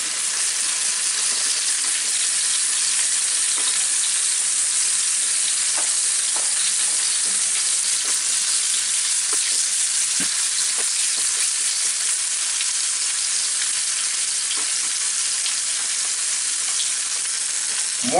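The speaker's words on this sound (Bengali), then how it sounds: "একটা তাওয়ায় প্যানে তেল গরম করে তার মধ্যে এই মাছগুলাকে একটু ভেজে নিব।" Rui fish pieces fry in hot oil in a pan, giving a loud, steady sizzle and crackle that runs unbroken throughout, with scattered sharper pops and spatters and no talking.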